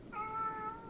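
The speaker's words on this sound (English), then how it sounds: "That's my cat in the background if you hear that." A single short meow from a cat, faint and somewhat distant, rising then falling in pitch.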